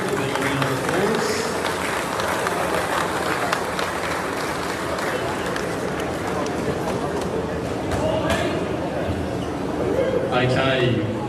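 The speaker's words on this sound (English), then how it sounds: "Give them a round of applause." Applause for the referees before a men's grand final game in an indoor arena, crowd clapping and cheering mixed with loud babble and an announcer talking over it.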